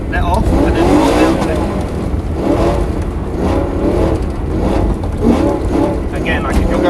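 A rear-wheel-drive car drifts sideways on throttle, its engine droning and revving in surging waves with tires scrubbing, loud and steady throughout while a person talks over it.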